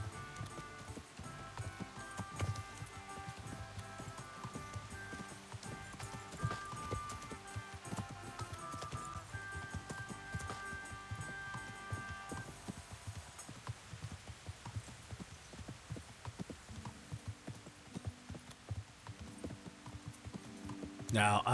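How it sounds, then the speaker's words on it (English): Horse hooves clip-clopping as a rider travels in a video game, a steady rhythmic beat running under dense game music and sound with a person talking over it. "We'll let the horse take control."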